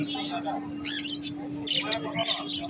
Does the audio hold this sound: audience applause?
no